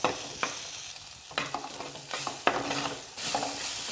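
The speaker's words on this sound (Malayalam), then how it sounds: "അതിലേക്ക് ഈ ഇഞ്ചിയും പച്ചമുളകും കൂടെ ചതച്ചത് ഇട്ട് കൊടുത്തിട്ട് നന്നായിട്ട് ഇളക്കണം." Crushed ginger and green chilli stirred in hot oil in a pan, giving a steady sizzle with several scraping stir strokes at an uneven rhythm.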